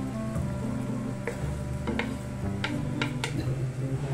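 Vegetables tumbling back into a pot of simmering sinigang as they are stirred, with a steady bubbling simmer underneath and a few clinks and scrapes of a spoon against the pot.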